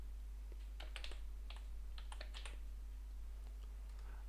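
Keys on a computer keyboard click in a quick burst of typing as a template name is entered, faint and close against a low steady hum, with a few scattered taps after.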